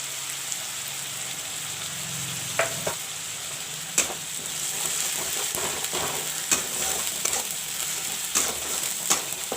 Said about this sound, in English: I will fry the onion paste a bit.